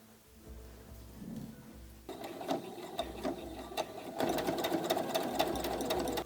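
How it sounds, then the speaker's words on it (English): A sewing machine runs close by, stitching a strap onto an old tote bag. After a quiet start it whirs steadily with a rapid rhythmic needle clatter that grows louder toward the end. "I can just sew right along here."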